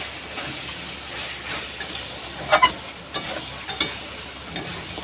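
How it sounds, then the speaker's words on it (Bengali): Chicken curry with chili powder sautés in a pan, a steady soft sizzle and frying hiss with occasional scrapes and clinks of a spatula stirring, close and fairly quiet. "দিয়ে আবার একটু কষিয়ে নেব"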